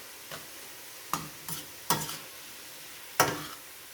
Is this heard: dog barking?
no